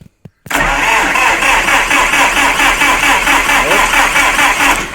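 Electric starter steadily cranking the SMD-23 engine of a combine harvester on a frosty day, a loud, close, rhythmic churning that runs after a couple of brief clicks without catching.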